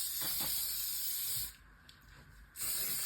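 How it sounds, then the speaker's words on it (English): A short hiss of hairspray, about a second long, breaking through a steady background hiss, then quiet before the background noise returns. "I'm just going to apply some hairspray."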